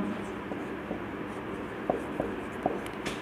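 Pen or chalk writing on a board during a physics lesson, scratchy strokes running steadily with a few light taps, faint and close over a soft hiss of room noise.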